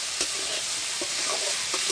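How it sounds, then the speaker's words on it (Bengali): Potatoes fry lightly in oil seasoned with salt and turmeric, giving a steady close sizzle with a few soft stirring scrapes. "মাছ দিয়ে রান্না করলে তাই হালকা ভেজে নিচ্ছি।"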